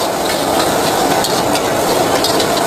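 Noodles and eggs stir-fry in a large 14-portion wok over a high flame at a street food stall, a loud, dense, continuous sizzle punctuated by metallic scraping and clanks of the spatula, close up with no talk.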